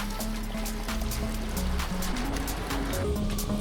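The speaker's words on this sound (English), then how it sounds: "Absolutely love these water fountains." Water from a fountain during a cycling training break, a steady close trickling and splashing stream running throughout with faint tonal hum beneath.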